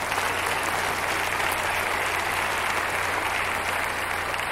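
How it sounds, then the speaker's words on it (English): A church audience gives steady, sustained applause, a dense wash of clapping at moderate distance that holds evenly without a break. "Go ahead and clap."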